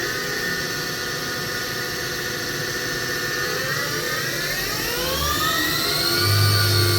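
The spindle of a Hurco VM5i vertical machining center spinning up from about 2,000 to 6,000 RPM, a steady machine whine whose tones climb smoothly in pitch over a constant mechanical hum.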